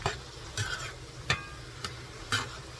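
A spoon stirs beef stroganoff in a cast iron skillet, giving a few distinct scraping clacks over a low steady sizzle, with no talking.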